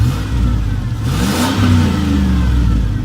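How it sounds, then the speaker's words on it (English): The V8 engine of a 2003 Chevy Suburban 4x4 with an aftermarket exhaust rumbles steadily nearby, then revs up with a deep, throaty exhaust roar before settling back to a strong idle. "I'm gonna let you hear this thing running."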